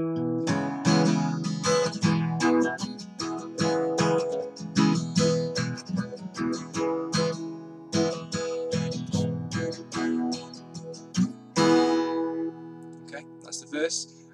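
Acoustic guitar strums through the verse of a song, close and clear, in steady rhythmic strokes with ringing chords and a final strum that lets the notes sustain.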